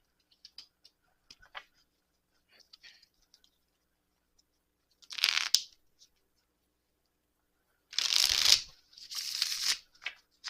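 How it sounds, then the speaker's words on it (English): Tarot cards handled in quiet surroundings: scattered soft clicks and slides of single cards, then a short riffle burst and two louder shuffling flurries near the end, close and alone with no talking. "I'm going to pull some cards to clarify."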